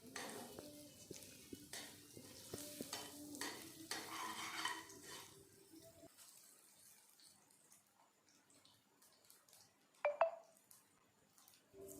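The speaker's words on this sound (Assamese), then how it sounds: "এতিয়া ইয়াত কাচকলখিনি ফ্ৰাই কৰি ল'ম।" Raw banana pieces frying in hot oil in a wok, a soft sizzle with clinks of a utensil stirring and scraping at first, then a quieter hiss broken by a sharp metallic knock near the end.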